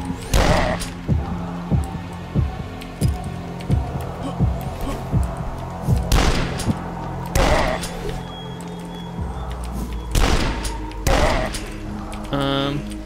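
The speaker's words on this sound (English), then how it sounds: "I think I need to use the shotgun." Shotgun blasts in the retro shooter game Dusk, loud booming reports spaced irregularly with a rapid run of lighter gunfire early on, plus game effects between shots.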